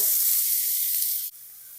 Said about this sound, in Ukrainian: цибульку підсмажую